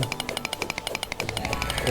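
Rapid rhythmic drilling through blocks in Terraria, a steady train of sharp mechanical pulses like a small jackhammer, close and continuous with faint game noise beneath.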